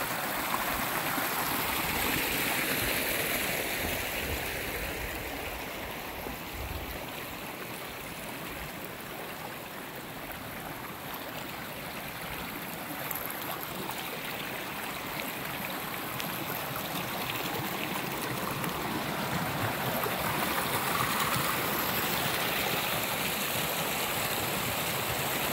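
Water flows steadily in a stream in an outdoor nature setting, a broad, even rushing wash that continues without a break at moderate, slightly distant loudness.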